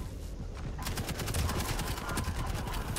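Rail gun fire in Quake Champions during a team deathmatch: dense, loud bursts of sharp weapon blasts follow one another rapidly for several seconds amid crackling combat noise.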